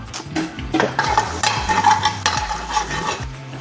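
Egg fried rice being stirred in a pan: repeated scraping and clinking of a spatula against metal over a soft background sizzle, close and fairly loud, with no talk.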